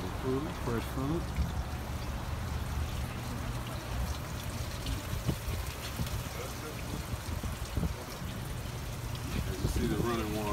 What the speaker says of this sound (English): the running water on the fresh food hydroponic system